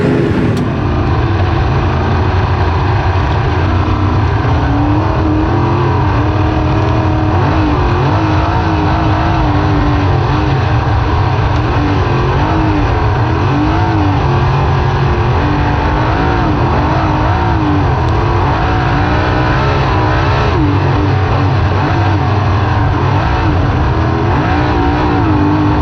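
Loud, continuous race car engine roar at Knoxville Raceway, with dense traffic noise and repeated revving surges sustained through a long stretch of racing, heard close from onboard the car.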